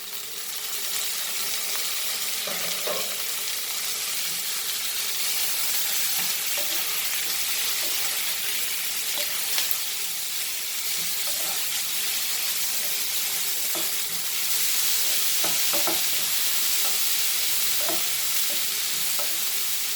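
Tomato and chili fry in a pan for a Goan dry fish curry, giving a steady close sizzle with occasional scraping stirs throughout, and nobody talks over it.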